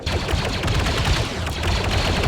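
Rapid blaster fire from Star Wars laser guns in the VR shooter Contractors VR, a dense, continuous volley of shots rattling on loudly with no pauses.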